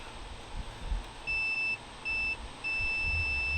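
A multimeter on continuity checks the wiring at a power-outage service call, giving three clear steady tonal beeps: a half-second beep, a shorter one, then a long sustained tone over faint background hum.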